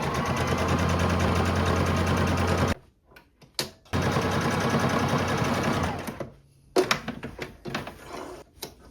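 A sewing machine stitches fabric for a homemade skort, running in two loud sustained bursts of rapid mechanical whirring, separated by a short stop, followed by clicks and handling noises.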